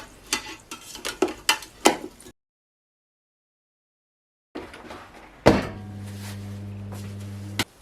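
Several quick scraping and clattering bursts of potato wedges being turned in a Ninja Foodi air fryer basket, then silence, followed by a sharp clack and a steady low mechanical hum of the running air fryer.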